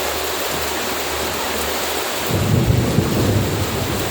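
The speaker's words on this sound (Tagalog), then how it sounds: "ang lakas ng ulan" Heavy rain falls with thunder over an aquaculture pond area, a steady dense hiss that swells louder and rougher about halfway through as the downpour intensifies and low rumbling builds underneath.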